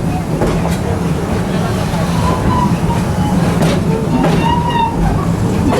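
Serengeti Express theme park train at Busch Gardens rumbling along with rattling carriage noise, clanks and faint squeals, while a voice narrates over the ride.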